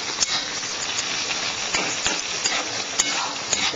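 A coconut powder curry mixture is stirred in a pan, giving a steady scraping, sizzling texture punctuated by sharp clicks of the utensil against the pan.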